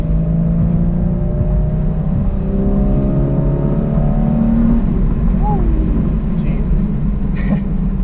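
A 2014 Porsche Boxster in sport mode drives along lakeside roads, its engine droning steadily and loudly with gradual pitch shifts as it pulls, close and continuous throughout.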